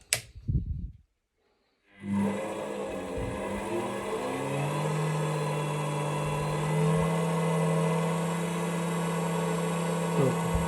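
A test stand for CDI generators starts up after a short clunk and silence, then runs with a steady motor whine and a strong tonal hum that holds evenly throughout, close and loud.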